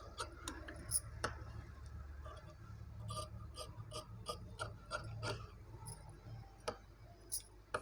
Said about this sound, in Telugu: ఈ ఎక్స్ట్రా క్లాత్ని మొత్తం కట్ చేసేస్తున్నాను